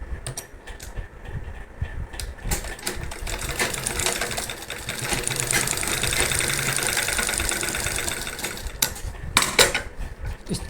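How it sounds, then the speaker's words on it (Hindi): A sewing machine stitches elastic onto a saree belt, its motor whirring steadily for several seconds between brief starts, stops and sharp clicks of handling, close and clear with no talking. "इलास्टिक को इस तरह से बीच में जोड़ लेंगे बेल्ट के इस तरह से, और इसे इस तरह से सिलाई कर लेंगे।"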